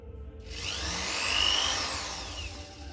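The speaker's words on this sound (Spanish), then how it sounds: "Y ya con un tornillo ya se nos queda sujeta la pieza" A screw driven by a power drill into a wooden piece of a doll's wardrobe, one short whirring burst that rises and fades over a couple of seconds, close and moderately loud.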